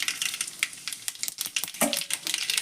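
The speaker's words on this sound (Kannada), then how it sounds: "ಸ್ವಲ್ಪ ಸಾಸಿವೆ ಹಾಕೋತೀನಿ ನಾನು" Mustard seeds sizzle and crackle in hot oil for shavige uppittu, with quick irregular pops and spits over a light frying hiss, close and fairly quiet.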